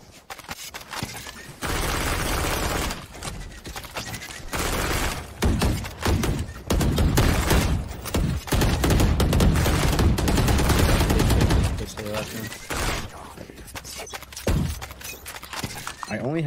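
The Classic pistol in Valorant fires repeatedly in bursts of sharp, close shots, broken by brief gaps, under ongoing game noise and intermittent voices talking.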